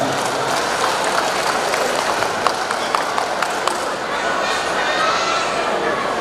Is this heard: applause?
yes